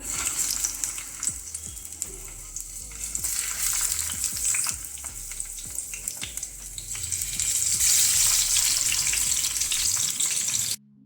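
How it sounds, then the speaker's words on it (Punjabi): Tomatoes hit hot oil and fry with a loud, close sizzle that builds and crackles, with stirring scrapes throughout and a sharp cutoff at the end; no talk. "ਤੇਲ ਗਰਮ ਕਰ ਲਿਆ ਸੀ ਤੇਲ ਦੇ ਵਿੱਚ ਆਪਾਂ ਹੁਣ ਟਮਾਟਰਾਂ ਨੂੰ ਪਾ ਦੇਵਾਂਗੇ"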